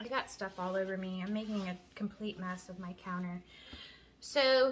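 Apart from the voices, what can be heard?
No everyday noises stand out.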